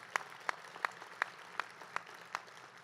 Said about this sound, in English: let's give her a round of applause for an amazing job of emceeing